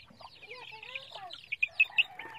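A week-old chicks peep and cluck softly nearby in a rural morning setting, a quiet run of short, high chirps rising to a few sharper peeps near the end.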